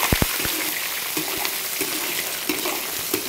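Slightly fatty cured pork frying in hot oil in a wok: a constant bright sizzle with a few sharp crackles and pops, close and steady, no talk.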